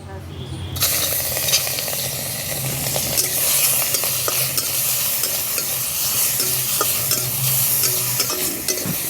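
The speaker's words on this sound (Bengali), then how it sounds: "তো এখন চিংড়ি মাছগুলো ভেজে নেব।" Prawns frying in hot mustard oil in a wok, a loud continuous sizzle with frequent stirring and scraping and occasional clinks of the utensil against the pan.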